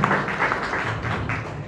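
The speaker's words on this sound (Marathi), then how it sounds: "त्या दोघांसाठी एक जोरदार टाळ्या होऊन" Audience applause at a felicitation ceremony for two honourees: a dense, steady wash of clapping that fills the whole short stretch at an even, moderate loudness.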